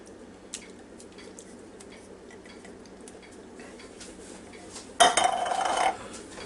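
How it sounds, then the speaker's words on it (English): Canned Rotel tomatoes dumped into an Instant Pot Duo Crisp for mac and cheese: a quiet stretch of faint clicks, then a sudden loud wet slop and clatter near the end, close up. "Now we'll dump this can of Rotel tomatoes in here on top of it."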